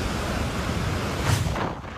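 Strong typhoon wind from Typhoon Nika during landfall in Dilasag, Aurora, a steady loud roar of gusting air buffeting the microphone, with a brief stronger surge near the end.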